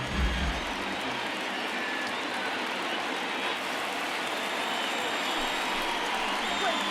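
A crowd of over 38,000 at a baseball stadium in MLB The Show 19 roars on its feet, a dense steady wash of cheering and applause that holds throughout.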